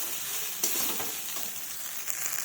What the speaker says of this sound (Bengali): এই দেখুন বন্ধুরা কি সুন্দর ভাজা হচ্ছে